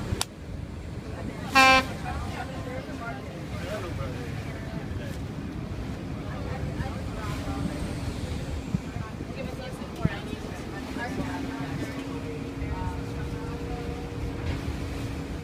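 A boat crossing open water in Venice, with steady engine and wind rumble, a short horn toot early on and occasional faint knocks over the continuous wash.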